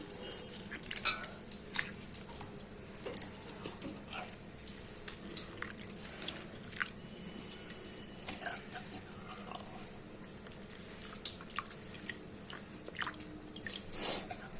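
Water swishes and drips as mashed gooseberry is stirred into it in a bowl, with soft irregular splashes and trickles throughout, no voices.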